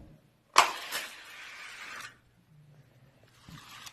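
Toy race cars rattle down a plastic track in a short tournament race, with a sharp release clatter, a rolling rush lasting over a second, then a faint later roll and a small knock.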